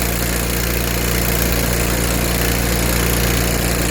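A small engine unit idles steadily at close range, giving a constant, even rumble with a fine rhythmic pulse and no breaks.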